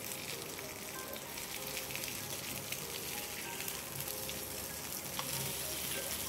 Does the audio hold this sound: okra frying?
yes